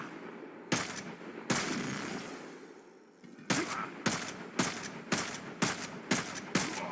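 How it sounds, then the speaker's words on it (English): Loud pump-action shotgun blasts from the Warframe video game: two separate booming shots, then after a short lull a rapid, evenly spaced run of six or seven more, each with a sharp attack and a brief ringing tail. "if I shoot him with this gun"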